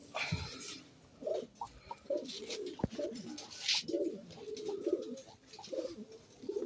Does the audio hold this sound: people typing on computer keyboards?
no